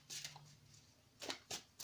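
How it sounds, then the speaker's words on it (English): A deck of tarot cards is shuffled softly up close in a few quick riffling bursts separated by brief pauses, faint and papery. "I'm going to go ahead and shuffle this tarot here"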